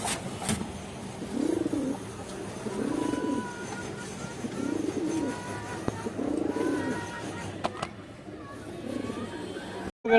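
A Khoragola (khaki-throated) male breeder pigeon coos close by in a repeated series of low rolling phrases at a steady rhythm, with light background noise and a faint voice underneath.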